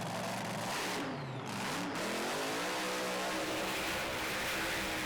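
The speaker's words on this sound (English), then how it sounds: "Well, into the burnouts they go." Drag racing cars at an FIA European Drag Racing Championship event perform burnouts, one a supercharged methanol-burning machine, producing a loud, continuous engine roar with rising revs and tire screech, close and dominant.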